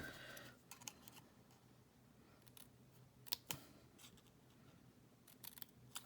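Scissors trimming pumpkin pie cardstock for a snowman Christmas card, a few faint, crisp snips and clicks scattered over a quiet background.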